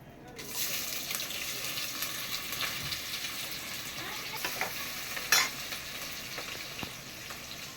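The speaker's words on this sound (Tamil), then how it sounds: "வெங்காயத்தை நல்லா உப்பு போட்டு வதக்கிக்கணும்" Onions salted and frying in a pan for mutton biryani, giving a steady sizzle with scraping stirs and occasional clinks of a spoon against the vessel.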